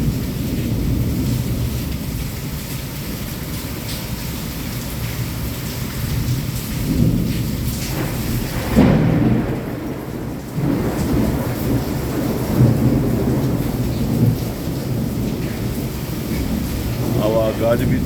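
A thunderstorm in Wankaner at night pours heavy, steady rain with wind, while rumbling thunder rolls in and swells repeatedly over the constant downpour.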